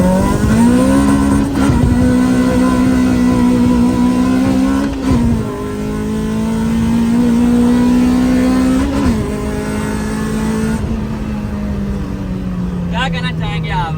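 A Suzuki Cultus converted into a Swift GTI with a 2ZZ engine accelerates hard, its loud engine note climbing steadily and dipping briefly at gear shifts over nearly continuous revving.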